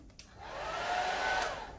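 A handheld hairdryer on its low setting 1 runs steadily, a soft breathy whoosh with a faint motor whine that builds after a small click and holds, close by with no talking.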